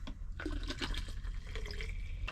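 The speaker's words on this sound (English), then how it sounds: "Fill up the rest of your water." Tap water runs into a drinks bottle that already holds a scoop of powder, a steady close pouring and gurgling rush for a couple of seconds with no voices.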